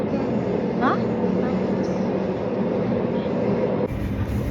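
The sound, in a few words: train ride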